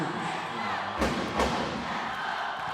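A volleyball crowd clad in blue cheering on their feet at a PSL Grand Prix finals match, a steady faint roar with two dull thumps in the middle and a commentator talking over it.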